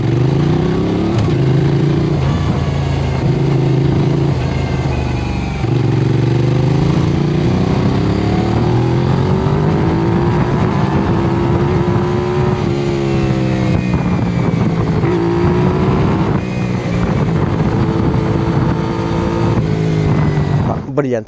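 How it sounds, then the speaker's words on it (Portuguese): A Benelli 752S motorcycle engine runs loudly and close through its exhaust tip, with rising and falling revs and a steady droning tone that holds for the whole stretch, while someone talks over it. "é só a ponteira, que tem um ruído muito simpático, muito específico, ok?"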